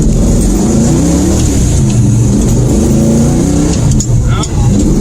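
A 1971 Dodge Demon with a 340 V8 and an Edelbrock AVS2 carburetor runs loud and close, its engine rumbling and rising under throttle with a slight hesitation, while someone talks over it.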